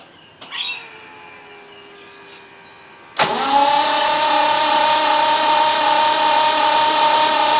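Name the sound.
Triumph 2500 MK I car engine starting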